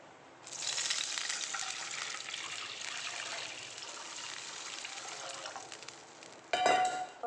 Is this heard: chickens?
no